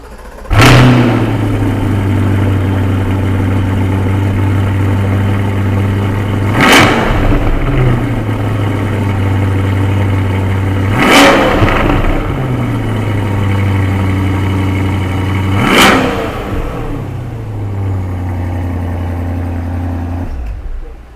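A car engine at a racetrack holds a steady, loud, close idle drone, broken by about four short, sharp revving bursts spaced several seconds apart.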